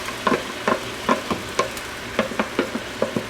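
Chicken and onions in marinade fry in oil in a pan, with a low sizzle under a series of intermittent clinks and scrapes from stirring at moderate, close range.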